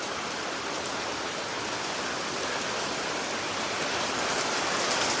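Heavy rain falls steadily in Thailand, a dense, even hiss of downpour that stays loud and constant throughout with no voices.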